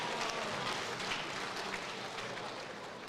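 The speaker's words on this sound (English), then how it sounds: "Please give them both a big round of applause." Applause from a combat sports crowd for two fighters after a six-round bout, a steady broad wash of clapping that holds for the whole stretch and tapers slightly toward the end.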